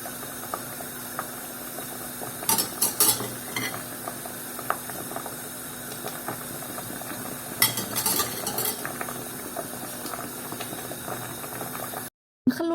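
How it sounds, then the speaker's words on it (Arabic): Sardine meatballs simmering in a white sauce in a pot, a soft continuous bubbling with scattered clinks and scrapes of a utensil against the pan, heard up close with no talking. "كملوا يطيبوا داخل لاصوص"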